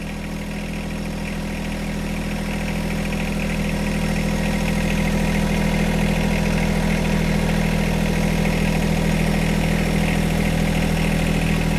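A John Deere 1025R compact tractor engine runs steadily at a constant speed while its front loader is hydraulically walked off, a close, even mechanical hum with no voices.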